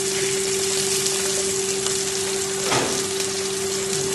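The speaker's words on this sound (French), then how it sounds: "On va mettre le filet de bar, côté peau toujours." Sea bass fillet searing skin-side down in a hot pan, a steady close sizzle and frying hiss with a constant tonal hum underneath and a brief louder burst partway through, with no talking.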